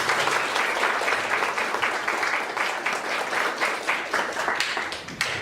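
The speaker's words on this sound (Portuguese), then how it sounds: "Uma salva de palmas" An audience at a church course-completion certificate ceremony claps in warm, sustained applause that fills the room and carries on at an even level throughout.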